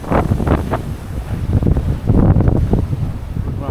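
Strong wind buffets the microphone aboard a sailing boat in an island-filled bay, a loud continuous rumbling roar with gusting surges and faint water wash underneath.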